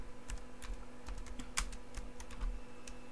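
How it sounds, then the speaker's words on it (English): Someone types a search into Google on a computer keyboard. Quick, light, irregular key taps sound close by over a faint steady hum, with no talking. "if you go to Google and you type in Windows 10"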